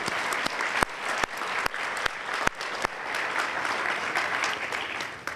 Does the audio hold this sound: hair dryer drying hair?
no